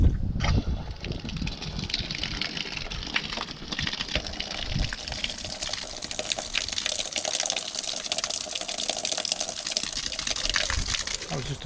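A newly fitted outside garden tap gushes steadily, with loud continuous splashing water running for the whole stretch and a sharper knock near the start as it is turned on.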